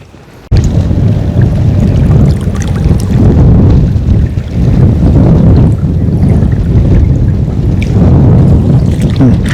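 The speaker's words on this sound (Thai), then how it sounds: "ลมแรงขึ้นแรงครับ" Strong wind buffets the microphone in an open outdoor spot by water where people lift fishing nets, a loud, rough, continuous roar that swells and dips.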